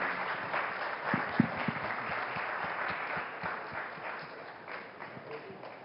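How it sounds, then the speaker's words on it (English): A conference audience claps in a steady wash of applause that gradually fades, with a few louder individual claps standing out near the start. "let's give a round of applause"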